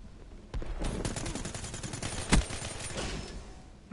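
Rapid gunfire from a gun in the shooter game Black Ops 3, a quick burst of sharp shots with one heavier blast in the middle, fairly close and punchy over a busy game background.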